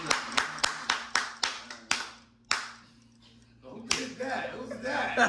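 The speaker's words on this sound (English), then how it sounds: "Let's give her an applause." A quick burst of applause, about eight sharp, closely spaced hand claps, followed after a short pause by chatter and light laughter from a small indoor group.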